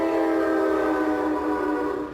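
A loud, sustained train horn blares steadily for a couple of seconds, its tone holding nearly level before fading slightly at the end.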